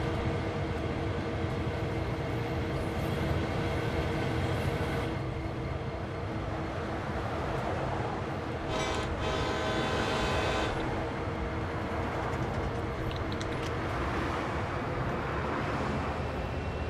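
A diesel SD40-2 freight train rolls steadily on the Cane Creek line from Thompson to Potash in Train Sim World 2, giving a continuous low rumble and hum of engine and wagons with a brief brighter burst near the middle.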